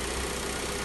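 A Rover 25 with a 1.1-litre petrol engine idles steadily after sitting unused for eight years, a continuous close, even engine drone with no other sounds.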